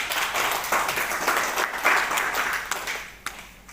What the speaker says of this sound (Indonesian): tepuk tangan dari ISMI